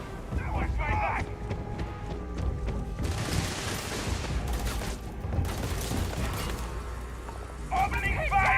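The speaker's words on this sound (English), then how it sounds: "Opening fire!" Gunfire rattles through a Starfield firefight on very hard difficulty, with bursts of shots and booming impacts scattered over a steady din, while voices speak in between.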